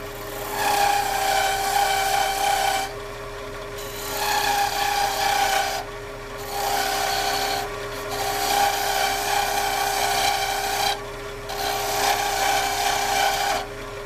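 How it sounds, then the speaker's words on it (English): A diamond parting tool cuts a wooden bell Christmas ornament spinning on a lathe, giving a loud scraping rasp in several bursts separated by short pauses, over the steady hum of the machine. "I'm going to outline that with a diamond parting tool"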